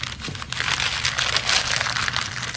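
A paper lunch bag is rolled up tightly for a craft, giving a close, continuous crinkling and crumpling with no talk.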